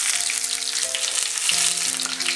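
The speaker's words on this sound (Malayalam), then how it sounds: "ഈ കടുക് നന്നായിട്ട് പൊട്ടി വരണം" Mustard seeds spluttering and popping in hot oil while tempering for a Kerala prawn peera dish, a steady close sizzle running throughout with no talk.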